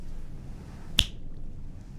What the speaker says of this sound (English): please don't snap your fingers